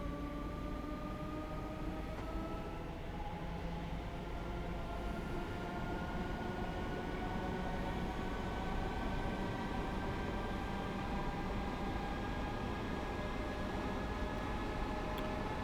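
An electric train on the Cathcart Circle Line in Train Sim World 2 runs steadily with a continuous rumble and a motor whine that slowly climbs in pitch, with no voices.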